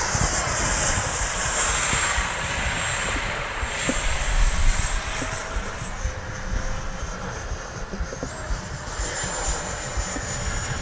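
A Freewing F-16 70mm EDF RC jet in arctic camo flies overhead, its ducted fan giving a steady, loud high-pitched whine and broad rushing roar that holds for the whole stretch, with no talk.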